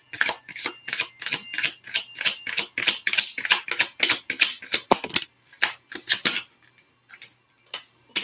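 Tarot cards being shuffled and pulled, a rapid run of crisp card snaps and flicks that starts fast and steady, then slows to scattered taps with short pauses near the end.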